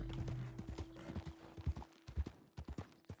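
A horse in a Western video game, restless and upset, with repeated clip-clop hoof steps and snorting bursts against a faint steady hum, fairly close.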